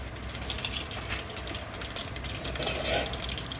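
Curry leaves hit hot oil already tempered with asafoetida, mustard seeds and cumin, likely over a wood-fired clay stove, giving a steady close hiss and crackle that holds evenly throughout.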